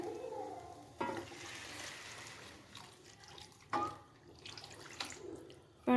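Water poured into a cooking pot of mixed grated carrots and rice, a steady splashing wash with a few sharper bursts, close and moderately loud with no talk.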